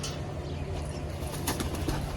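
Soft, low pigeon cooing close by over a steady background rumble, with a faint rustle near the end.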